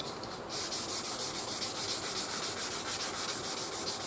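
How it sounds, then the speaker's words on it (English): Fine-grit sandpaper rubbing along a guitar neck held in a vise, a steady rhythmic back-and-forth scratching of even strokes, close and loud, after a brief quieter start. "I need to switch it around though to sand that"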